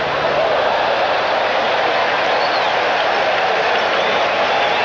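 A large baseball crowd roars steadily at the Oakland Coliseum during the 1988 World Series, Game 3 between the A's and the Dodgers, a dense unbroken wash of cheering.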